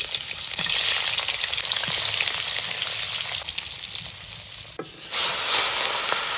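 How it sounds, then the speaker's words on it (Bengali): Fish sizzling and spitting in hot oil in a pan, a dense, steady crackle running loud and close throughout, with a brief dip and one sharp clatter near the end. "সুন্দরভাবে মাছগুলো ভেজে নিব সর্বপ্রথম"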